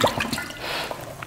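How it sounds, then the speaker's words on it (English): Liquid draining from pickled giardiniera vegetables in a bowl, a close wet splashing and trickling with squelchy shifts, brief and fairly loud. "I'm gonna drain it right here. Getting nice and drained."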